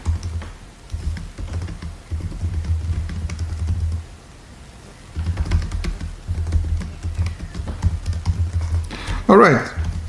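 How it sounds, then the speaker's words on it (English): Steady keyboard typing while entering text, a continuous patter of key clicks over a low background rumble, with a short pause midway and a brief voice near the end. "And then we'll type in some text inside there."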